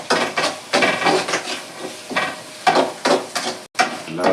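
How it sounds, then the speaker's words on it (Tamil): Four green chillies sauté in a pan while being stirred, giving a sizzle with repeated scraping strokes of the stirring utensil that rise and fall in a steady rhythm, close by and without talk. "எல்லாத்தையும் அப்படியே 4 பச்சை மிளகாய் வதங்கட்டும்."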